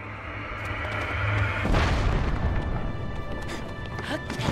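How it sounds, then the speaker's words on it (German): Cannons fire in the video game Zelda: Tears of the Kingdom, a sudden loud boom that rolls into a sustained rumbling blast, with game music and ambience running underneath. "Oh mein Gott, das sind Kanonen."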